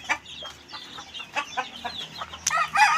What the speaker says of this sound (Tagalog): Nandun pa yung iba nating sisiw mga idol oh.